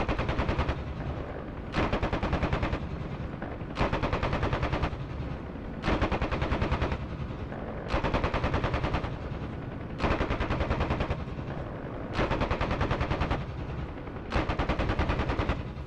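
An aircraft machine gun fires in short, regular bursts during a DCS World flight set in the Marianas in WWII, each roughly one-second burst of dense, loud rattling separated by brief pauses of lower engine noise.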